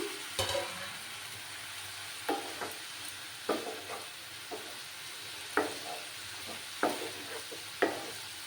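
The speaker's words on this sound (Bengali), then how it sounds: "একটু নাড়াচাড়া করে দিলাম মশলাটা আমার কষেই গেছে" Spice paste (masala) for an eggplant and potato curry fries with a soft, steady sizzle in a pan, punctuated by about eight sharp spatula scrapes and taps at irregular intervals; no voices.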